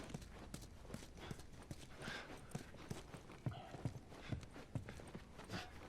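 Steady clip-clop of horse hooves at a walking pace in The Last of Us Remastered, fairly faint and continuous over a low background rumble.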